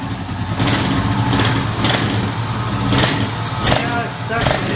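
A Honda TRX350 ATV engine runs steadily at close range, with a rough idle rising into light revs, and someone talks over the engine noise.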